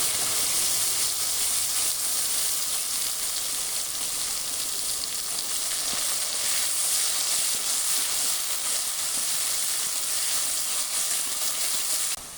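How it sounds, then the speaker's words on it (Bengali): Rui fish frying in a pan of hot oil, a continuous bright sizzle that stays loud and even for the whole stretch, with no voices. "দ্বিতীয় ব্যাচটাও ভেজে নেব ওই তেলে"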